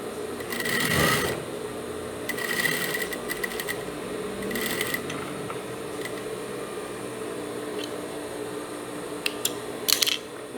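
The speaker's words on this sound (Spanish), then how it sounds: "Doblamos aquí y cosemos." A home sewing machine stitches fabric for a child's boxer shorts in short, intermittent bursts of rapid close-up clatter, separated by quieter pauses with light handling noise.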